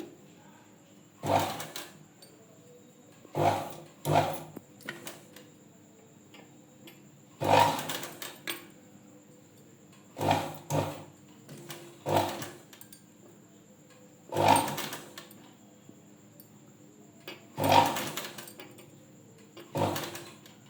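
A sewing machine stitches blouse frills in short separate bursts of rapid mechanical clatter, each a second or two long, with quiet pauses between runs and a faint steady hum underneath.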